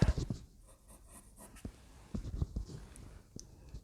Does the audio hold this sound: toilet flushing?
no